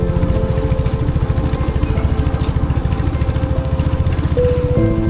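A motorcycle engine chugs loudly and close, its rapid, even pulsing holding steady throughout as the bike sets off on a rough off-road mountain route in North Sikkim.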